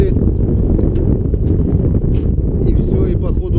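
Strong wind roars across open water by a fishing boat at dusk, a loud, steady low rush buffeting the microphone, with faint voices underneath.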